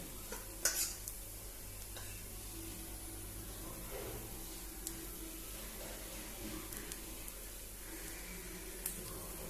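A dosa-style pole made with egg cooks in a pan as sauce goes on top, giving a faint, steady sizzle with a few soft clicks and scrapes, close and quiet under low background hum.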